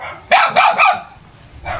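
A dog near a rural Mangyan tribal village barks three times in quick succession, loud and close, then lets out one more bark after a short pause.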